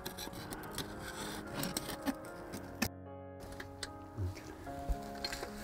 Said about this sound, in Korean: 단단하게 잘 구워진 목탄에서는 맑은 쇳소리가 난다.